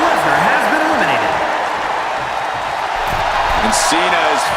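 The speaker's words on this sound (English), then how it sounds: "And Cena is firing up the crowd here" Crowd noise from a wrestling arena in WWE 2K25, a steady roar under loud commentary with a brief clap-like burst near the end.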